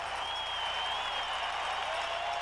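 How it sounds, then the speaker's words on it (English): A home crowd at Rosenblatt Stadium in Omaha roars during the 1991 College World Series, a dense, steady wash of cheering and clapping that holds at full strength throughout, with no clear voice standing out. "now the home crowd was ready to cut loose on Rosenblatt Stadium"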